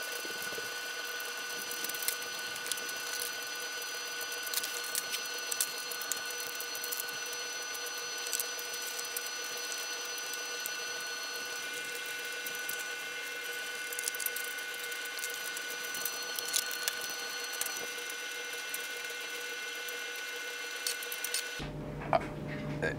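A home embroidery machine stitches a fabric patch on its first run, giving a steady, continuous mechanical whir with a rapid needle clatter that runs unbroken for about 22 seconds before stopping.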